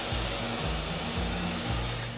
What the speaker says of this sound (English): and then vacuum it thoroughly.